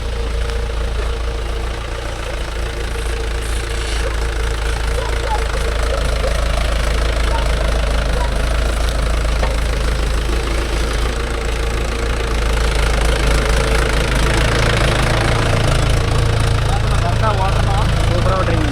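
A Mahindra 575 DI tractor engine runs steadily throughout, a loud low diesel rumble and knock that keeps going while people talk over it in the open, working coconut tree land.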